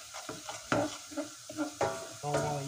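A spoonful and a half of curry spices is stirred in a pan before green grams go in, with a few soft scrapes and clinks of a spoon over a gentle background sizzle.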